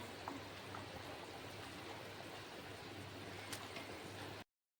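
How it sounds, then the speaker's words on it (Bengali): Fish curry gravy bubbling in a pan as soaked fish pieces are added, a steady soft simmering hiss and gurgle that stays level and faint, then cuts off abruptly. "দেখুন ঝোলে কি সুন্দর ফুটে এসে গেছে আমি ভিজে রাখা মাছগুলো একে একে ঝোলে দিয়ে দিচ্ছি"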